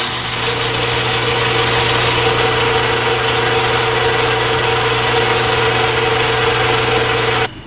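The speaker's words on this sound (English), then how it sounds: "we can start boring for a press fit" A rotary tumbler part is bored out for a press fit, heard as a loud, steady machine drone with a constant hum that runs unbroken and cuts off abruptly at the end.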